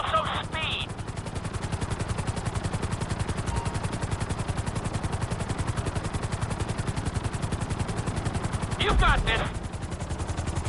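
Helicopter flying in a PS4 video game, a steady rapid rotor chop pulsing throughout at constant loudness, with brief bursts of sharper noise near the start and end and a voice speaking briefly.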